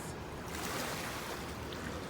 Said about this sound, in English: we are right beside the waters.